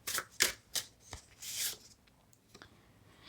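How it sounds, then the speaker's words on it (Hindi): A card drawn from a Birds Oracle card deck: several soft, brisk rustling and sliding card sounds in short bursts, faint and close, with no talking. "मैं यहाँ से एक कार्ड ले लूँगी, ठीक है, ये बर्ड्स ओरेकल है।"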